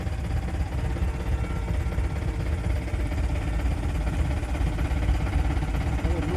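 A train engine pulling wagons approaches the Dhola railway crossing, a steady low engine drone and rumble that holds evenly throughout, with no talk over it.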